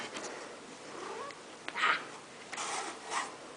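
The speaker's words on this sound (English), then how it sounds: "kitty cat. Come here." Angel, a pet cat, gives a few soft, close meows and chirps spread across a few seconds, with light rustling between them and no talking.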